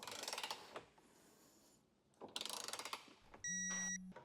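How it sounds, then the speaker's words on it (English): Torque wrench tightening trailer hitch bolts during an EcoHitch Invisi hitch receiver install: two bursts of rapid ratcheting clicks close by, separated by a quieter pause, then a steady electronic beep tone at the end. "Now go back with your torque wrench and get them all torqued down."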